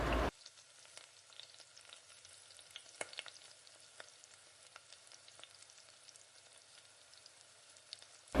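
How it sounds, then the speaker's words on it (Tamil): Mustard seeds fry in hot oil in a pan for a Tamil sambar, making a faint steady sizzle scattered with small pops and crackles. The sound runs alone, without talk. "எண்ணெய் காய்ச்சதுக்கு முன்னாடி கொஞ்சமாக கடுகு சேர்த்துருக்கேன்."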